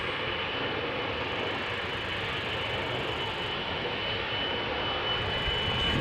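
The engines of a KLM Boeing 777-200ER at Amsterdam Schiphol give a steady, loud, broadband roar that holds evenly throughout and swells slightly at the end, with no voices.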